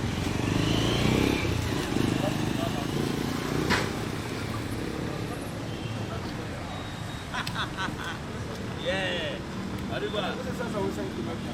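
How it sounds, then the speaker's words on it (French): Amateur motorcyclists set off together from Lomé, Togo, on a group touring ride, their engines rumbling steadily amid a noisy street and crowd chatter, with voices talking over it throughout. "On va prendre les motos et on quitte Lomé."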